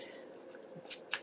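A sponge rubs ink onto torn coffee-dyed paper, making soft, faint scuffing and brushing sounds with a couple of brief louder scrapes near the end, over a quiet room.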